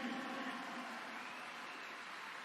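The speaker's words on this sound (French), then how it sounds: "Mesdames et messieurs, applaudissez Aliou Cissé" Faint, steady applause from a stadium crowd greeting Aliou Cissé on the pitch at the Parc, a distant continuous wash of clapping with no break.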